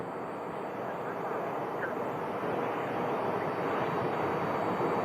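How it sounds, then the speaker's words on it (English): A Cessna 208 FedEx feeder plane lands on runway 26 at Sky Harbor Airport in Phoenix, a steady broad engine drone rising slightly in loudness, with a voice in the background. "There goes a little FedEx feeder, Cessna 208 Sky or Cargo Master, right, landing on 26"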